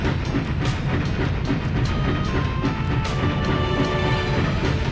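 A train ride in MediEvil on the PS1, loud continuous rumbling rail noise with steady clattering from the carriage, no voices over it.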